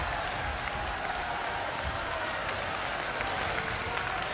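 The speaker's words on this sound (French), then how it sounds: "Il applaudit à tout rompre ce soir l'équipe jaune" Crowd at a French tag-team professional wrestling match applauding enthusiastically, a continuous wash of clapping heard from a distance on an old, band-limited broadcast recording.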